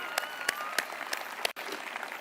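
Audience applause at a public school commencement ceremony, a dense, steady wash of clapping with a few sharper claps standing out, briefly cutting off before resuming.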